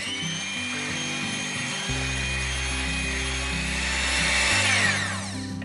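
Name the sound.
beating eggs with a pinch of salt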